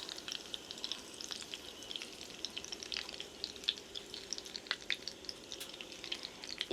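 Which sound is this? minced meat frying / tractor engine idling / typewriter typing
minced meat frying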